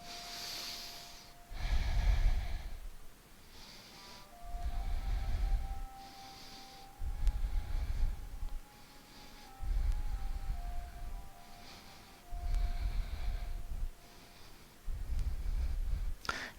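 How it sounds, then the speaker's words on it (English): Deep yoga breathing during a hip-focused class, with slow rhythmic inhales and exhales. About six strong, breathy surges rise and fall at steady intervals, close and alone, with no talking. "Inhale, open, exhale."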